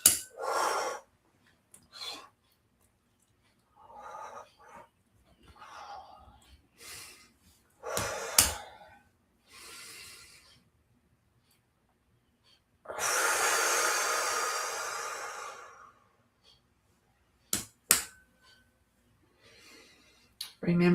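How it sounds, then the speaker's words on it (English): A person breathes slowly in and out through the nose in a meditation, with airy inhales and exhales spaced by pauses, one long drawn breath in the middle and a few short sharp sniffs, close and quiet. "Remember to inhale through your nose and hold that when your lungs are full, to hold that a bit. And then exhale through your nose."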